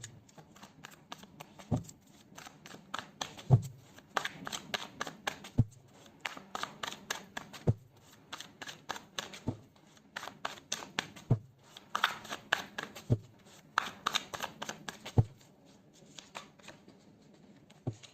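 Tarot cards riffled and shuffled over and over, crisp papery flutters broken by regular sharp taps and slaps of the deck, close and fairly loud with no talking.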